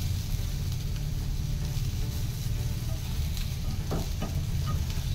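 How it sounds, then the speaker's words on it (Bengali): Okra sizzles steadily as it fries in a pan over high gas heat, with a few scraping stirs of a spatula late in the clip, close and continuous without any talk. "এই যে এইগুলো একটু লাল লাল করে ভেজে নিতে হবে"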